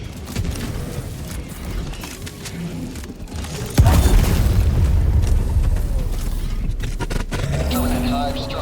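Bug hive structure blown apart in Helldivers 2 in a mega city under acid rain, a sudden heavy explosion that rolls into sustained rumbling and debris, with players and game voices talking over it.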